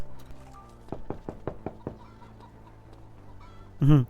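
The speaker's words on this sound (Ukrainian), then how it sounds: "А, я постукав у двері." Knocking on a door in a GTA-style game set in a Ukrainian village, a quick series of about six evenly spaced knocks, moderately loud, over faint background ambience with chickens around, followed by a brief louder sound at the end.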